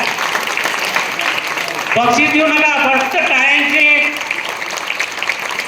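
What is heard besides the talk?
audience applause for mallakhamb demonstration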